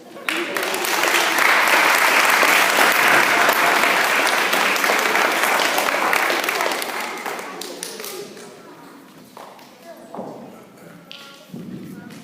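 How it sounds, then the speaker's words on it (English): A room full of people applauds loudly for third-grade students after their state speeches, a dense burst of clapping that thins into scattered claps and some chatter. "Let's give them another round of applause."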